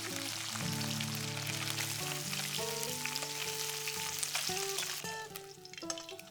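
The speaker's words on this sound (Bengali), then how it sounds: "তেলটা ঠান্ডা হলে তারপর ভাগে ভাগে মাছগুলো ভাজবে" Small mourala or mola fish fry in batches in mustard oil in a wok, giving a steady sizzle and crackle under louder background music.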